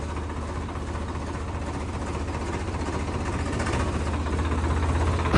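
A Swaraj tractor engine idles steadily with a deep, even diesel throb, loud and close throughout and rising slightly toward the end, with no talking over it.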